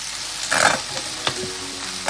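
Gobi manchurian ingredients sauté in a pan, giving a steady sizzle with a few short bursts of stirring and scraping up close, and no voice.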